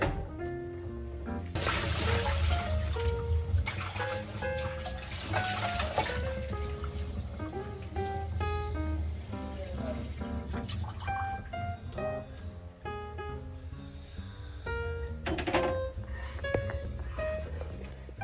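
Tap water runs steadily into a sink while something is washed, a continuous splashing flow with faint background music and no talking.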